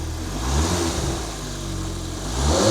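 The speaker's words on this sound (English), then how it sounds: "So let me go start it up and let's find out what it sounds like." An Audi TT engine starting and running close by, its low rumble rising and falling as it revs, with no voices.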